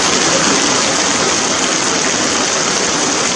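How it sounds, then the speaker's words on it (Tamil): Heavy rain pours steadily over Tamil Nadu, a dense, loud, continuous hiss of downpour with no gaps and no voices. "பரவலாக மழை பெய்தது"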